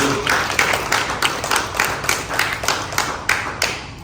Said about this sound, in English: I'll give a round of applause over this.